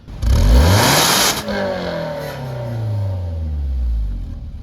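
A Toyota Camry engine that burns oil revs hard and loud up to a high pitch, then drops off and settles into a lower, steady drone.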